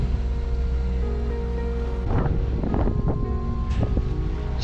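A sailboat's engine motors at sea to top up the battery, a steady low drone running throughout beneath constant wind noise, with rougher splashing bursts in the second half.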